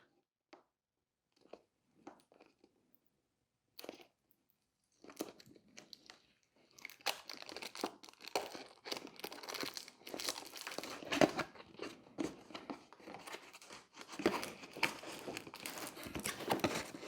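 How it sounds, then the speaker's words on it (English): Plastic and paper packaging for a TORCHSTAR ultra-thin LED recessed light crinkles and crunches close up as a seal is peeled away and the box is opened, starting with sparse taps and then turning into dense, continuous rustling. "We've got a seal here on the top, and let's go ahead and peel that away."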